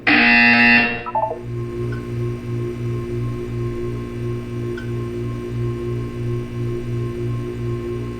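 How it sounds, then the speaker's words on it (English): A loud electronic buzzer from the video game Portal 2 blares for under a second, then a quieter pulsing hum and soft repeating tones continue in the background. "You will hear a buzzer."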